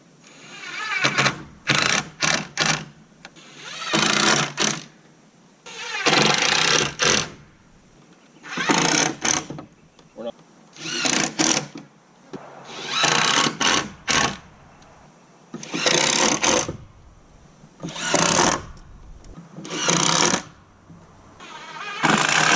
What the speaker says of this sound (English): Start screwing some stuff together here. We're just using some Kreg pocket hole screws